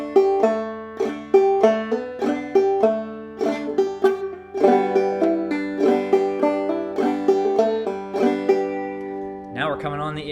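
Clawhammer banjo picks out the tune "Georgia Railroad" with a steady, bouncy rhythm of plucked notes and brushed strums, close and clear, then a brief different sound at the very end.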